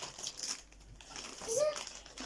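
A plastic gift bag is opened by a child, giving soft crinkling and rustling through the short stretch, close and fairly quiet, with children's voices faintly mixed in.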